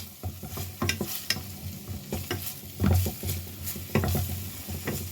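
Green chillies sauté in a hot pan for a sandwich filling, giving a steady oily sizzle broken by repeated scraping stirs of a spatula, close up with no talk.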